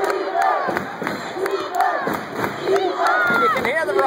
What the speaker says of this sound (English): And you can hear the Rehoboth crowd.